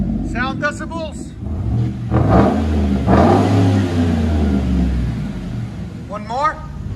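A Chevy Avalanche 5.3L V8 with loud dual exhaust revs up and down close by, its deep rumbling swells rising and falling, with bursts of chirpy, high-pitched sound at the start and end.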